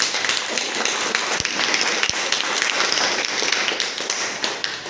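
Audience clapping at a DXN business meeting in Gorakhpur, a dense steady patter of hands filling the hall at moderate loudness throughout, with a couple of sharper isolated claps standing out.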